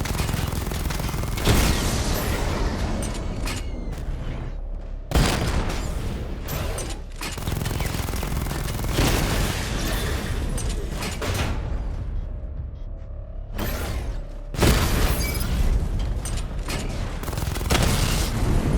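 Missile barrage fire in the Batman: Arkham Knight video game during a diagnostic test on active targets, with loud dense bursts of rapid launches and impacts in long volleys, broken by a few short pauses and restarts.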